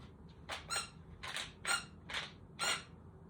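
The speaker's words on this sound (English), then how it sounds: "That was the squeak in the hat that your comedian would use or the clown would use" A squeak toy hidden inside a clown's hat gives five short, bright squeaks in an even rhythm, close and alone with no talk.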